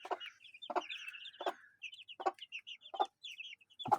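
Hen and her chicks from a mixed-breed flock clucking close by, with sharp repeated clucks from the hen over a steady run of high chick peeps, all without talk.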